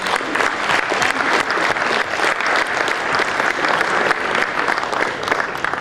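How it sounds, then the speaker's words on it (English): An audience at an international conference on esophageal cancer claps loudly and steadily in sustained applause for several seconds. "Can we have a louder round of applause?"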